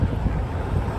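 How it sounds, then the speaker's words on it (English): Gusty wind pounds the microphone outdoors, a dense, steady low roar filling a brief moment with no other sound. "It's a battle between me and the wind."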